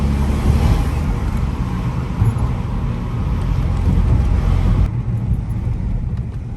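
Steady road and traffic rumble fills the cabin of a stage 2 tuned BMW 120d driving through busy traffic, a continuous broadband roar that dips slightly near the end, with no talk.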